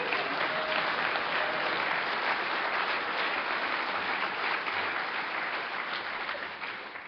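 An audience at an Alcoholics Anonymous speaker meeting during the Music City Roundup in Nashville claps in sustained, dense applause that holds steady and fades slightly at the end.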